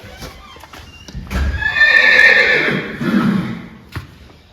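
A single loud, close horse whinny rises and trails off over a couple of seconds, with faint hoof clops and shuffling around it.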